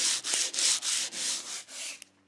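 Folded sandpaper rubbed by hand over wood in about eight steady back-and-forth strokes, each a close, dry rasp with brief pauses between, ending with a faint tap.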